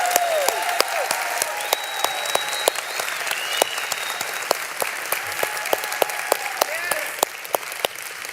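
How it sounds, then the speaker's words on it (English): An audience at a convention session in Dallas applauds Meredith Burkich, with sustained, fairly distant clapping from a large hall, sharp individual claps standing out over the steady wash. "So a nice round of applause for Meredith Burkich."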